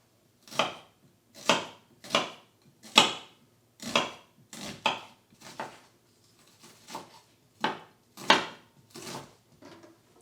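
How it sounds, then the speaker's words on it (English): Onions finely chopped with a knife on a board, a run of about fifteen crisp, close chops in a loose uneven rhythm with short gaps, alone without talk. "I need a couple of onions, finely chopped."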